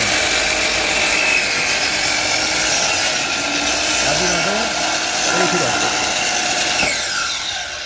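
A sliding saw cuts across a wide wooden board with a loud, continuous whine and rasp for several seconds, easing off toward the end.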